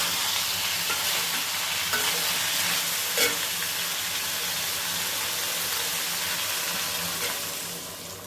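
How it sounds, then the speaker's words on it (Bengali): Fish frying with spice paste in a pan, with a steady, close sizzle and crackle and occasional scraping stirs, with no talk. "এবার মাছটা দিয়ে মাছের সঙ্গে মশলাটা আর একটু কষিয়ে নেব"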